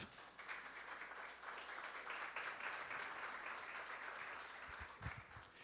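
A church congregation breaks into applause during a sermon, a steady wash of many hands clapping at moderate distance that holds throughout, with a few louder claps near the end.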